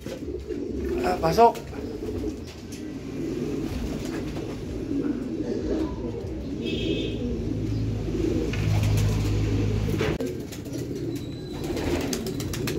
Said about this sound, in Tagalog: hindi mapakali yung ibon